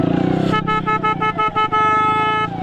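A car horn honking in heavy traffic, loud and close: a few short choppy toots followed by a long sustained blast, with no talking.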